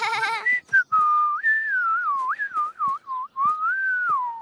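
A person whistles a wandering melody alone, with short pauses and breaths between phrases, close and clear.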